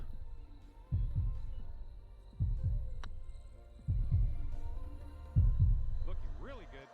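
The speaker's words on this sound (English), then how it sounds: "We'll turn the heartbeat on." Heartbeat effect while putting in PGA 2K23 on The Dutch Lowlands course, four deep, evenly spaced thumping beats under low game ambience, with a brief voice-like sound near the end.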